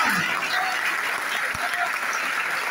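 Audience applause at a literary seminar in Lahore, a dense, steady wash of many hands clapping at moderate distance, filling the whole moment without a break and with no talk over it.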